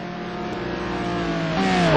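Race cars, among them a green and black Corvette, lapping the Mugello circuit, a steady engine drone that swells louder toward the end with a rising whine as cars pass.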